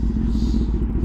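A 2025 Kawasaki ZX10R sport bike fitted with a new exhaust, idling with a loud, close, steady rumbling throb that stays even and continuous.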